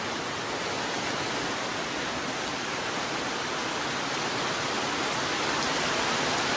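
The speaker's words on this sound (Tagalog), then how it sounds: "Grabing ulan!" Heavy rain pouring down in the countryside, a loud, dense and unbroken hiss of water striking surfaces nearby, steady from start to finish with no voices.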